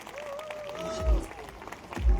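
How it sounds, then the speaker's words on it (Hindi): An audience claps at a Mumbai event, a brief burst of applause that swells and settles over a short stretch, heard in a reverberant hall with some background voices. "एक बार जोरदार तालियां हो जाए।"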